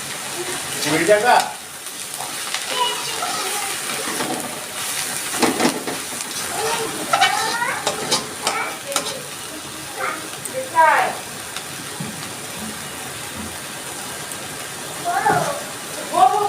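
Elephant-foot yam leaves fry in a pan with shrimp, salt and turmeric, a soft sizzling hiss with occasional stirring, heard under someone talking at intervals.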